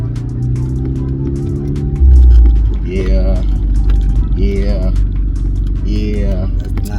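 Volkswagen Polo 6R GTI engine droning steadily while driving, with a deeper surge after about two seconds; people talk over the engine noise throughout.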